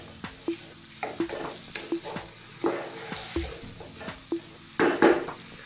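Garlic and ginger paste stirred in a pot over low heat for a beef and tomato curry, soft sizzle underneath with repeated scraping strokes of a spoon, a louder clatter near the end.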